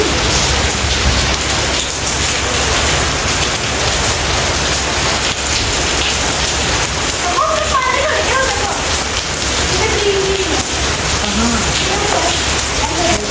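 Steady, heavy rain pours down in a dense, continuous hiss, with faint voices briefly audible underneath.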